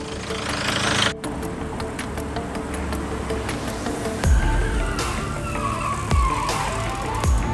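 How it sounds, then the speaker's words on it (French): A car idles steadily after being jump-started from a flat battery with a portable booster, a continuous engine rumble with a few louder low thumps. "On peut maintenant débrancher, la voiture tourne, plus de problème."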